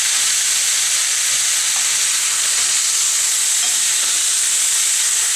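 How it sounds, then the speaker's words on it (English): Wine, butter, capers, lime and shallots simmer and reduce into a beurre blanc sauce, giving a steady close sizzling hiss with faint bubbling pops throughout. "the wine, capers, lime, and shallots are simmering away nicely"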